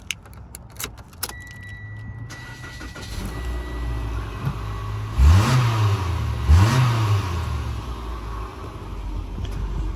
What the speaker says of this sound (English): Turn this one on for you so you can hear the engine running.